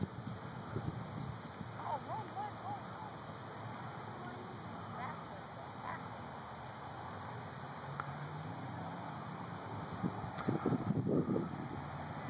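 Outdoor wind buffets the microphone in a steady rumbling roar while a kite is flown, with people talking and calling out over it throughout.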